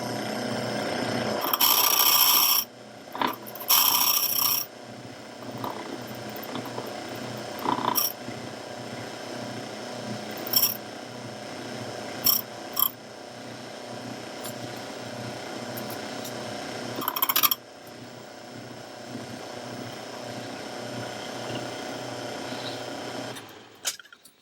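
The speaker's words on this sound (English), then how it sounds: "So normally I just use a key machine and try to taper that off a little bit." A locksmith's key machine grinds steadily as it tapers a key, a continuous mechanical whir with brief louder bursts and pauses throughout.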